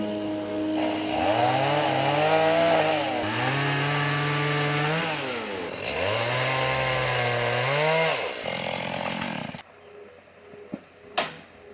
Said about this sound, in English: a chainsaw is a must-have item, and once again we need to stop to get out and clear a fallen tree